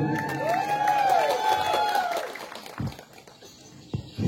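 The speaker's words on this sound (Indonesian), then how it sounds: "Tepuk tangan." A crowd at a community gathering in Kotawaringin Barat, Indonesia, cheers with rising whoops and shouts, then thins to a few scattered claps and noises.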